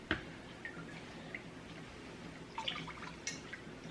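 Water drips sparsely into a water purifier being filled with silty water, a few soft irregular plinks over a faint, steady background hiss, quiet and close.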